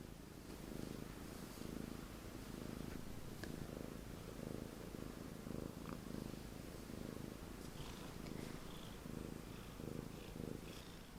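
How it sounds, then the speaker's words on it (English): A domestic cat purring close by, a steady rhythmic rumble that pulses with each breath for the whole stretch, with no voices over it. "you're so purry."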